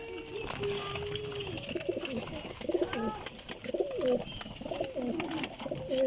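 Sialkoti pigeons coo in repeated, soft throaty phrases close by, with a voice talking over them and a steady background hum.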